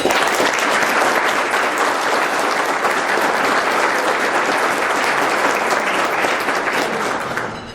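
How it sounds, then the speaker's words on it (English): Steady, dense applause from an audience at a congressional district address, loud and continuous for several seconds before tapering off at the end, with no talk over it. "If you would, just a round of applause for those folks."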